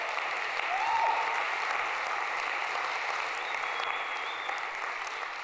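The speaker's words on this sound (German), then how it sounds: "Gebt ihr nochmal einen Applaus." A church congregation gives sustained applause for two musicians, a steady crowd of clapping hands at moderate loudness, with a faint tonal whistle briefly rising over it.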